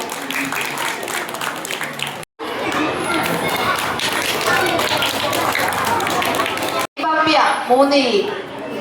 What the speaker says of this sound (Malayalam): നല്ലൊരു കൈയടി കൊടുക്കുക എല്ലാവരും.